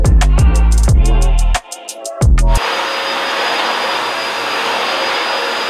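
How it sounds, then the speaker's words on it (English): A vacuum cleaner running over a garage floor being prepared for epoxy gives a steady, loud, close rushing whoosh that takes over after a few seconds of heavy rhythmic thumping. "This guy is vacuuming my garage floors."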